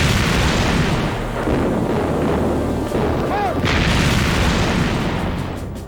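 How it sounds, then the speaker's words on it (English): Heavy 11-inch naval guns fire during a sea battle, giving a continuous loud rumble of booms and blasts with dramatic mixed sound throughout. "his 11-inch guns kept pounding her"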